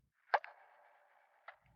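A voice imitates the suction-cup pop of a prosthetic leg coming off, giving a sharp pop followed by a short thin tail and a second smaller pop, heard close and alone.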